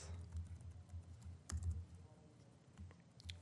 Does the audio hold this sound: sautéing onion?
no